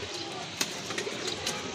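Pigeons kept by a breeder, including imported and running pigeons, cooing softly amid faint background noise.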